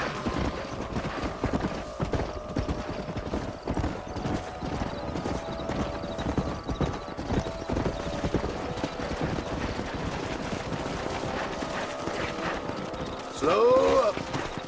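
Horse hooves clip-clop steadily and continuously in Red Dead Redemption, a busy rhythmic clatter running throughout, joined near the end by a brief whinny.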